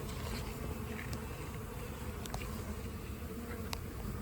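A honeybee swarm fanning at a hive box, a dense, steady buzzing hum filling the air close by, continuous with faint scattered ticks and no talking.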